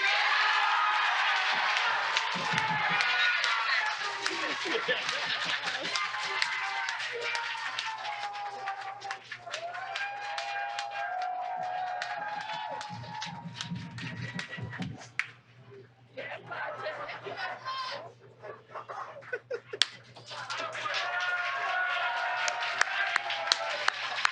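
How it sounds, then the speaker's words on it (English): A swim team's end-of-season banquet crowd cheers, whoops and claps for a Team Spirit Award winner, a lively sustained roar of voices with scattered applause, dipping briefly before surging again. "I love the reaction. The crowd reaction is great."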